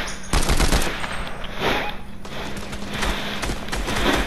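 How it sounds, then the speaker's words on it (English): Rapid gunfire in the battle game Fortnite, bursts of shots crackling close and loud in quick runs across the whole stretch, with no talk over it. "I'm getting shot everywhere."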